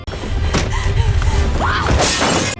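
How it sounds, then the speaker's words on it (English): A glass door is smashed through in a horror film fight scene, with a heavy crash and thuds, a burst of shattering near the end, and a brief strained vocal cry in between. "Next is Roman smashing through this glass door"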